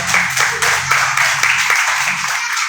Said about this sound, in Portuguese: Aplaude para Jesus bem forte.